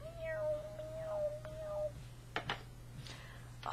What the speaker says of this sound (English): I have this little orange cat.